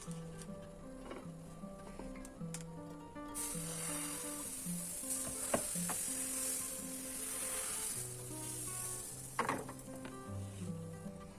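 Crepe batter fries in a pan with a continuous soft sizzle that swells partway through, beneath steady background music and a couple of light pan knocks.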